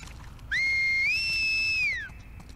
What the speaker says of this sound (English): They are so good at whistling.